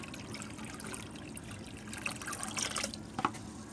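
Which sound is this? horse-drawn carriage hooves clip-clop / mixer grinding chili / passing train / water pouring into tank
water pouring into tank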